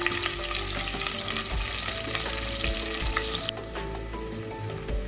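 Biryani spices and a thinly sliced onion frying in a pan, a steady loud sizzle with soft stirring and scraping throughout, close up and with no talking.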